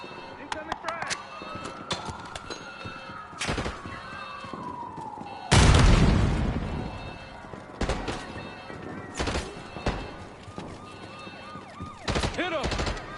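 A frag grenade bursts loudly in a first-person shooter, surrounded by scattered bursts of gunfire and sharp shots throughout, while voices talk over the action.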